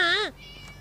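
In Scary Teacher 3D, a locked-up cat gives one loud, close, rising-then-falling meow, followed by faint game background sound.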